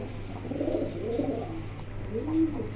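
Pigeons, including a black-faced bird and racing pigeons kept by a breeder, coo in low, throaty rolling bursts, close and steady over a constant low hum, with no talk.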